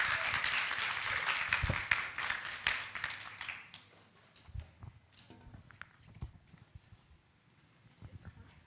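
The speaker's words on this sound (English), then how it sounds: "So give a round of applause to Hui Xuan and Eric for their session" Audience applause for two presenters at a conference session, a burst of clapping filling the first few seconds before thinning out into scattered claps, footsteps and soft speech.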